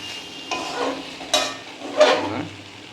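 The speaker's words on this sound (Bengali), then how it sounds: "এই যে মশলাগুলো ভাজা ভাজা হয়ে গেছে" Spices fry in a pan with tomato added for a Bengali-style katla fish head curry, giving soft sizzling and a few stirring scrapes in short bursts with no talking.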